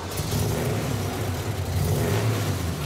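Classic 1960s Chevrolet Camaro engine revving loudly at a vintage car show, a steady deep mechanical roar close by with no talk over it.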